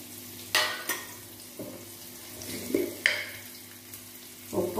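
Mango pieces tipped into a sizzling tempering of mustard seeds, curry leaves and asafoetida, giving a few sharp crackling spurts and sizzles over a quiet, steady frying hiss.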